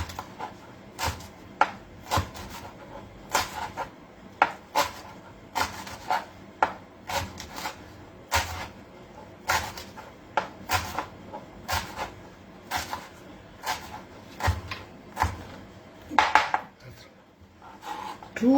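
Perandai stems being chopped finely with a knife on a board, a brisk run of sharp, fairly close taps in an uneven rhythm that continues throughout with no voices.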